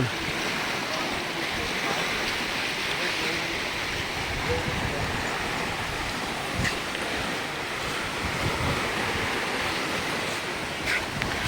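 Surf washes steadily onto Boracay's beach front at high tide, a broad continuous roar with wind buffeting the microphone, heard close and loud, with a few faint thuds and no clear speech.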